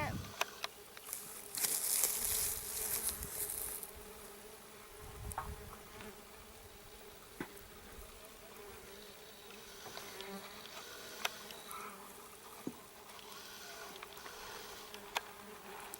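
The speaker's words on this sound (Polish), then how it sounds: "Murarki wszędzie." Mason bees buzz around their nest up close, with a loud pass near the start and then steady, fainter buzzing and occasional sharp ticks as insects fly and land, with no talk.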